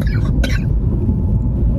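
Coughing fit from a man with chest pain on a rural road, a short cough burst near the start followed by low rumbling background with no speech.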